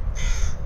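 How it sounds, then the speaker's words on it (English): A crow gives a single short, harsh caw, loud and fairly close, with an outdoor hiss and low rumble underneath. "Mr. Crow over there, he just won't stop"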